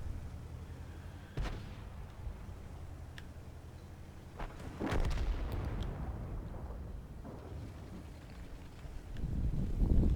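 A tank gun fires a high-explosive shell in a video game, a single heavy boom followed by a rolling rumble, set among a few sharp distant cracks and a low steady engine drone.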